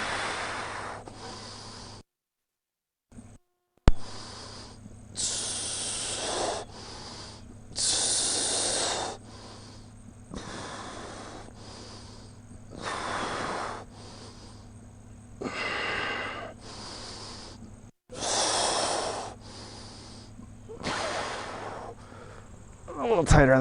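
Slow, deep breaths drawn in and pushed out during a kettlebell shoulder mobility drill, each long airy inhale and exhale close and clear, repeating steadily with brief gaps between them.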